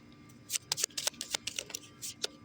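A tarot card deck being shuffled up close, a quick run of crisp, papery riffles and snaps in separate bursts, fairly quiet, with no talking.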